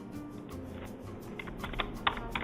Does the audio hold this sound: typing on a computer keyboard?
yes